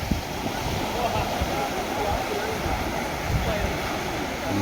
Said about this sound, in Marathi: इकडे तुम्ही समुद्रांच्या लाटांचा आवाज बघू शकता खूप मोठा येतो